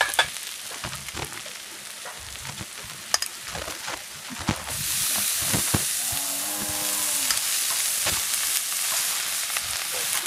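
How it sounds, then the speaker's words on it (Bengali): Washed cabbage drops into masoor lentils frying in a pan. A soft clatter of stirring gives way to a sudden, louder, sustained sizzle and hiss that continues to the end, close up. "এবার ধুয়ে রাখা বাঁধাকপিগুলো দিয়ে দিচ্ছি।"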